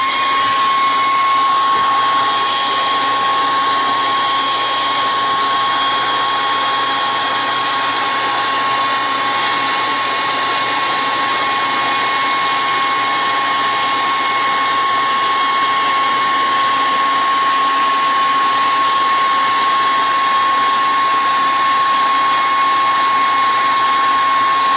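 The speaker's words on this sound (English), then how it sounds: "you can take a hair dryer and you just use your hair dryer to sort of heat up this adhesive" A hair dryer runs steadily at close range to heat and loosen adhesive on an O gauge model layout, a continuous even whir with a faint high whine throughout, no pauses and no talking.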